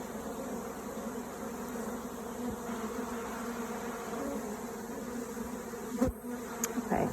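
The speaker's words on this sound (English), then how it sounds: "This swarm has stung me 3 times already." Africanized honey bee swarm in southern Arizona, a dense continuous buzz of many insects close by, steady throughout with a few louder passes near the end.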